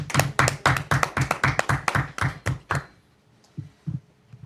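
Applause during a Spanish-language faith talk show, quick rhythmic clapping that carries for almost three seconds, then fades to silence with a couple of faint thumps at the end.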